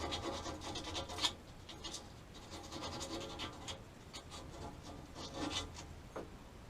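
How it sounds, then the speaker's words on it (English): A small piece of sandpaper is rubbed by hand over the rough, bumpy edge of a gas pipe in an attic, making quiet, continuous scratchy strokes with one louder scrape early on. "I don't have a file, but I think a little piece of sandpaper will work just well"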